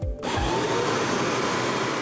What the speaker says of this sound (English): It's the world's first smart carpet cleaner.